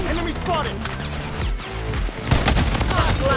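Rapid bursts of P90 submachine gun fire in the shooter game Blood Strike, loud and dense over game music and effects, with crashes and impacts layered through the mix.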